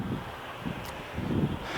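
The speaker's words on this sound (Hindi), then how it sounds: "प्यारी प्यारी ठंडी ठंडी मीठी मीठी हवा चल रही है यहाँ पर।" Cool evening breeze blowing outdoors at sunset over an open plot of land, a steady soft wind rush buffeting the microphone with low rumbling gusts that swell near the end.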